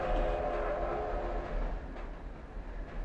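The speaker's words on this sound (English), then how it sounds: "We gotta be mindful of that train, that 310 to Yuma, that just keeps coming by every 5 minutes." Train rolling past in the Commandos video game, a steady loud rumble with a dense rattling wash that fades slightly toward the end, heard alone without talk.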